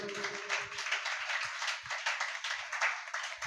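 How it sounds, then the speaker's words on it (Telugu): A congregation at a Sunday church service claps together in a dense, steady stream, with a faint voice near the start. "గట్టిగా చప్పట్లు కొట్టండి"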